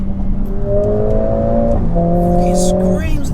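Engine of a 2021 Mercedes A45 AMG S revving loudly and steadily close by, pitch rising and holding before a brief dip and climb again, with faint talk underneath.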